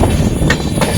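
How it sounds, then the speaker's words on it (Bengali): Onboard a slow-moving train bound for Digha, a loud, close rumble of wheels on track with faint rhythmic clatter and no voices. "আবার ট্রেনে আছি, চলছে আস্তে আস্তে"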